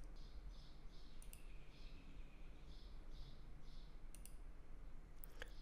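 Computer mouse clicks while operating K-Means clustering software, a few sharp isolated clicks spaced irregularly over a steady low background hum.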